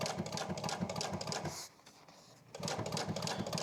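Sewing machine stitching a fabric corner, a rapid close mechanical chatter that stops briefly in the middle, then resumes at the same pace.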